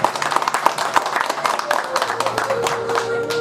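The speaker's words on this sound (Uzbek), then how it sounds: "Chiroyli qarsaklar chalib qo'yasizlar." Audience clapping at a birthday celebration: dense, steady applause from many hands fills the whole stretch, with a faint tonal background under it.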